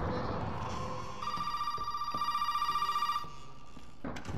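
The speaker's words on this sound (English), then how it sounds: "Not a cell phone ring." A telephone rings in the horror game Resident Evil 7 biohazard, a sustained trilling bell heard at moderate distance over low ambient game noise for about two seconds before cutting off.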